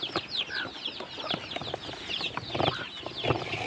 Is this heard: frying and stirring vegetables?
no